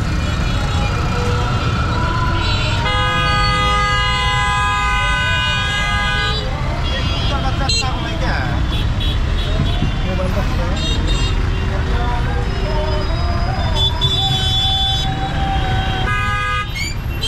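Engine rickshaws crawl through a congested traffic jam in Sirajganj, Bangladesh, with continuous engine drone and repeated horn toots, some long and layered, sounding close and loud under ongoing talk.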